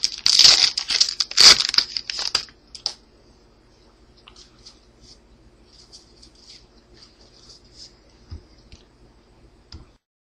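A 2012 Topps Mars Attacks Heritage trading card pack wrapper is torn and crinkled open up close in two loud bursts of foil rustling, followed by faint clicks and soft handling of the cards.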